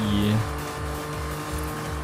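An older Toyota Camry TRD drives in Forza Horizon 5, its engine a steady low droning hum with gently pulsing tone, heard close and moderately loud after a brief louder opening.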